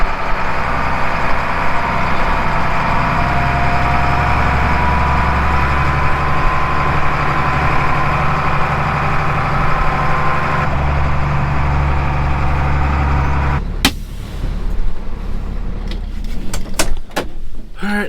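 A truck engine idles steadily and close by at an irrigation pump pit installation, a continuous low rumble that runs unbroken before shifting as clattering knocks and bangs break in near the end.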